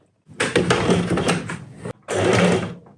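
Domestic sewing machine stitching bias binding for halterneck straps, a loud steady mechanical run with a brief pause before stitching resumes, close by and with no talk.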